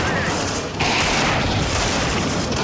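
Loud, dense blasts and booming explosion in a Counter-Strike match, a sustained roar with a sharp burst partway through.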